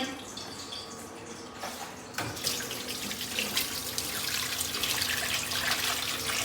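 Broken wheat (daliya) gets rinsed in a couple of changes of water in a home kitchen, with a steady running-water wash and splashing that grows fuller and louder after a brief clatter.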